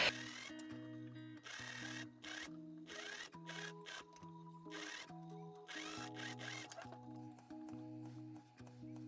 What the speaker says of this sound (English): So now we can match up the neckline front and back and sew these pieces together.